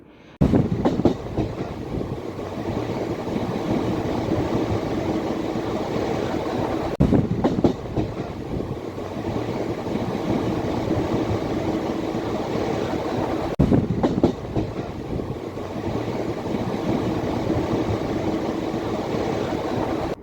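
A local train rumbling along the tracks, a steady loud roar with rhythmic clicks of wheels over rail joints recurring every few seconds.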